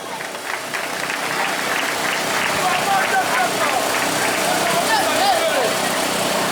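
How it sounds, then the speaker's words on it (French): An audience applauds the honorable Steve Mulumba at a Scrabble tournament final, a steady broadband wash of clapping that holds for the whole stretch, with crowd noise and a voice or two mixed in. "je voudrais qu'on applaudisse d'abord l'honorable Steve Mulumba"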